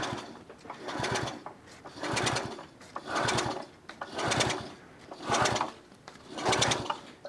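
A French Velo Vap front-wheel-drive moped engine is cranked over again and again with its fuel open, making a regular series of six loud, churning bursts about a second apart with short pauses between them.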